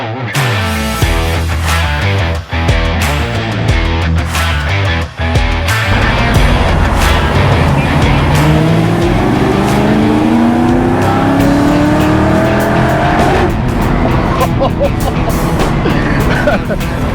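A 1967 Ford Mustang Eleanor revs loudly and accelerates, its engine note climbing steadily in pitch over a sustained, close roar, with brief voices early on.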